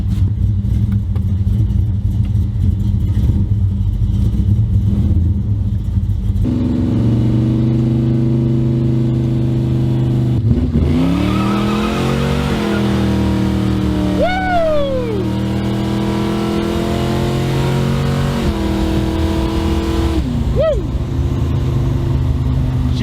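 Plymouth Barracuda V8 engine heard from inside during a ride along, a steady low rumble that shifts to higher revs midway with brief rising gear sweeps, continuous and close throughout.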